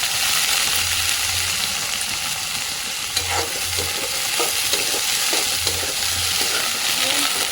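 Onions frying in hot oil in a home kitchen, with a steady dense sizzle throughout and occasional scraping stirs against the pan, close and loud with no talking.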